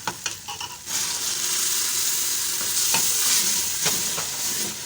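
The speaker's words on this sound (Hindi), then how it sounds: "मसाले को अच्छी तरह भूनना है" Oil sizzles steadily in a pan as a ground onion, ginger, garlic, green chilli and tomato spice paste fries for a chicken curry, with a few scraping stirs of a spoon near the start and occasional clinks.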